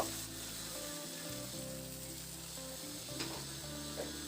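Spice paste with a splash of water sizzles and fries in a pan while being stirred, a steady hissing sizzle that runs continuously and fairly quietly, with no voices.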